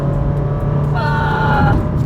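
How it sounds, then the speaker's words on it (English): A steady continuously variable transmission drone fills the cabin of a compact hatchback while driving, with a constant low engine hum and a thin whine that rises for a moment and then fades. "can you hear me over the CVT drone?"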